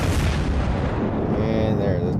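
Battleship main guns firing a salvo in World of Warships, a heavy booming blast that rolls off into a decaying rumble, loud and close, with a voice talking over it.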